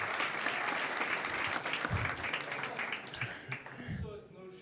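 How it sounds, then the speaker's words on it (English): A graduation audience gives a short round of applause for graduates, a fairly quiet, steady patter of clapping that thins out toward the end as a voice begins speaking. "A round of applause for you again."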